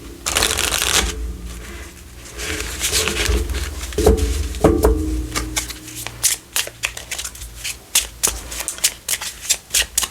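A deck of oracle cards is shuffled by hand, with dense riffling flutters early on, then a run of distinct, evenly spaced card slaps and taps toward the end, close and clear with no talk.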